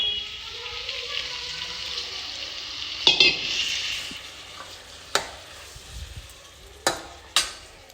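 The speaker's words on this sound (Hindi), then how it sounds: "थोड़ा सा उसमें पानी और डाल दूँ।" Water is poured into a pot of potato curry on the stove and stirred, with a steady sizzling hiss, a few sharp clinks of a spoon against the pot, and someone speaking quietly over it.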